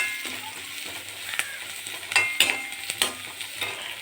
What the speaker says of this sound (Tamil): தேவையான அளவுக்கு நல்லா வதக்கிக்கோங்க.